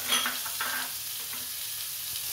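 Potatoes with salt frying in a pan for a homemade Kabul roll, a steady close hiss of sizzling oil with a faint stir near the start.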